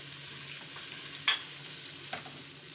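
A steady low sizzle as garlic-ginger powder, turmeric, salt, cumin and nigella seeds are stirred in a pan, broken by a sharp utensil scrape or clink and a softer second knock.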